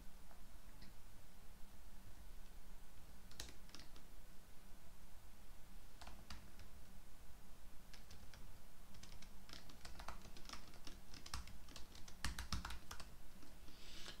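Someone types on a computer keyboard while programming, with scattered clicky keystrokes in short bursts that grow denser toward the end, all close and fairly quiet with no talking.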